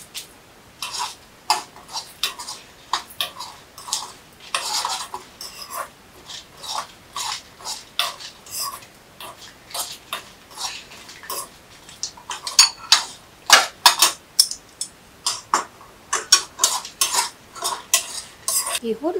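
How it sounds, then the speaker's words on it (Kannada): Red chillies and urad dal roast in a pan while a spoon stirs them, giving repeated close scraping and clinking strokes in an irregular rhythm that grows busier toward the end. "ಮೊದಲು ನಾವು ಈ ಮೆಣಸಿನಕಾಯಿ ಮತ್ತು ಉದ್ದಿನ ಬೇಳೆಯನ್ನು ಹುರ್ಕೊಳ್ಳೋಣ"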